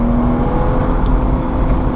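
A 2014 BMW 435i convertible's turbocharged inline-six runs on the Road America track, a loud, smooth, continuous engine drone with steady low rumble and wind noise throughout.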